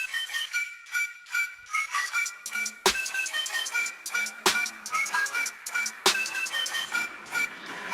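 An AI-generated electronic song with bright synth tones, a steady rhythmic beat and occasional sharp percussive hits, playing continuously without talk.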